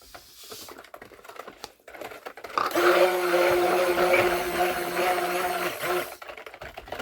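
A stick blender whirs steadily for a few seconds while making yuzu salt bars, a loud mechanical drone, preceded and followed by soft clicks and handling noises.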